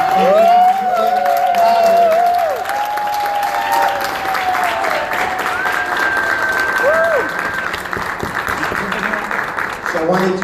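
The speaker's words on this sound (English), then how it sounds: "make a round of applause" A crowd claps and applauds steadily while music or voices carry over it, loud and sustained throughout.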